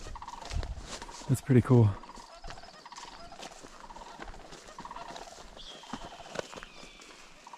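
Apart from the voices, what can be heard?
sandhill crane calling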